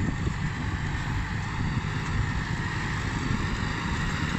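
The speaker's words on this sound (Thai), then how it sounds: "มาดูรถไถติดเครื่องปั่นครับติดผ่านปั่นนะครับคูโบต้า" Kubota MU5501 tractor, a large 55-horsepower machine, running with a rotary tiller in a rice paddy, giving a steady loud low rumble with broadband noise throughout and no talking.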